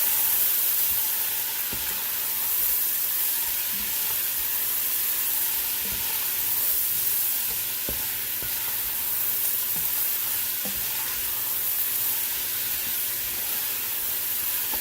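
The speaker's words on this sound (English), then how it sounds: "just keep letting it saute down for a couple minutes" Cabbage for a keto cabbage soup sautés in a pot, giving a steady close sizzle and hiss with soft scraping knocks of stirring scattered throughout, no talking.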